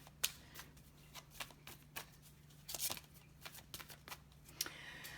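Tarot cards are shuffled by hand in a series of quick, crisp riffles and slaps, separated by short pauses, with one brief louder burst near the middle, close up and without talk.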